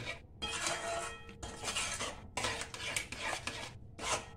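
Metal spoon scraping and knocking around a pan while white sauce made with butter and chilli flakes is stirred together, a steady run of close, bright clatter broken by short pauses.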